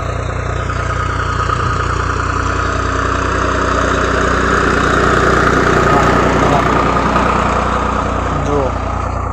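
A tractor engine runs steadily in a castor field during field work, a loud, continuous low mechanical drone with constant vibration throughout.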